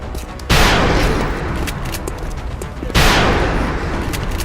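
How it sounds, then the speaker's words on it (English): Two loud bursts of gunfire aimed at a Mutant Berserker in the XCOM video game, each a sharp onset followed by a sustained rumbling roar that fills the clip, with no talk. "What we're going to do is lay down some fire on it."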